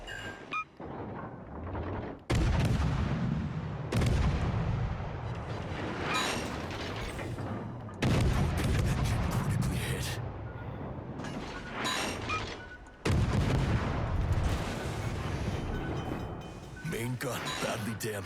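Tank gun rounds fired in a tank video game, several heavy booming shots at irregular intervals, each with a long rumbling decay, while someone talks throughout.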